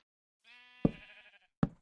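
A Minecraft sheep in a pen lets out one short, wavering bleat, followed by two sharp clicks, heard alone at moderate volume.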